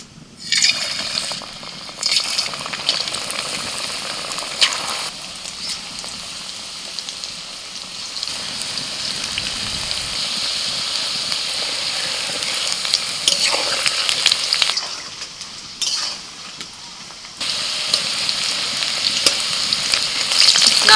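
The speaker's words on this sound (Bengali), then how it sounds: "এবার একটা একটা করে চিকেনগুলো ভেজে নিই" Marinated chicken pieces for orange chicken fry in hot oil in a wok with a loud, sustained crackling sizzle. The sizzle swells and briefly dips as pieces go in and are turned, and no one speaks.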